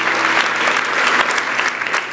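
A church congregation claps together in a dense, sustained round of applause during a service, loud and even across the whole moment.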